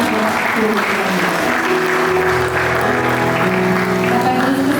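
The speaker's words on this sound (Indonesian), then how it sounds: "Sekali lagi kita berikan sambutan tepuk tangan buat kedua mempelai." Wedding guests at a holy matrimony ceremony clap for the bride and groom, a steady, dense wash of applause that carries through the whole stretch, with faint tonal music or voices murmuring underneath.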